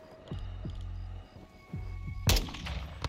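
Gunfire in the video game Modern Warfare 2, a few spaced single shots with deep thumps, then a louder sharp blast near the end, heard fairly close amid game ambience.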